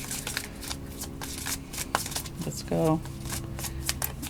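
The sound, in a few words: tarot cards being shuffled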